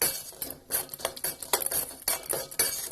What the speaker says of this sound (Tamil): இப்போ வந்து நான் அந்த ராகி அரை கப் தனியாக எடுத்து வச்சுருந்ததை ஆட் பண்ணுறேன். ஆட் பண்ணி இதை நல்லா ஒரு 2 மினிட்ஸ் வரைக்கும் நல்லா ஃப்ரை பண்ணிக்கிறேன்